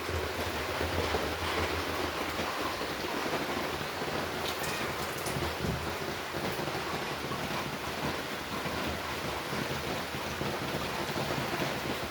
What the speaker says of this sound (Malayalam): ഇന്ന് കുറച്ച് മഴയൊക്കെ പെയ്യുന്നുണ്ട് കേട്ടോ